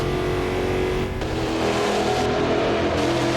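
Prototype race car engine in the racing game Automobilista 2 drones loudly and steadily at high revs, with a brief dip in pitch midway as the car shifts or lifts, then continues at full power.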